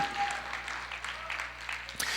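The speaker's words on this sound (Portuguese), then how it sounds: "Uma salva de palmas para esses dois jovens lindos aqui." A church congregation claps in brief, even applause at moderate distance, a soft steady patter lasting a couple of seconds.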